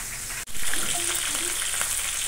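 Food fries in a pan with turmeric, a dense steady sizzle crackling throughout, broken by one short dip near the start, with faint voices underneath.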